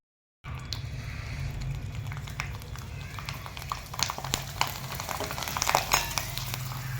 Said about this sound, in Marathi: हे बघा इथं माझे शाबूचे पापड वाळलेले आहेत. मी तुम्हाला आता तळून दाखवणार आहे.